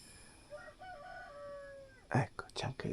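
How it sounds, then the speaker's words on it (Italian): A rooster crows outside a yurt in Kyrgyzstan, a faint distant cock-a-doodle-doo with a stuttering start and long drawn-out tail, followed by close rustling and soft whispered voices. "c'è anche il gallo fuori"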